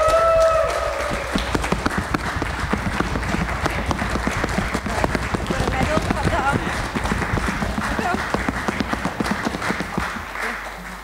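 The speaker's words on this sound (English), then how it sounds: "A massive round of applause for Jana, please." Audience applause at a nature festival award, sustained dense clapping from a crowd that lasts about ten seconds before stopping abruptly.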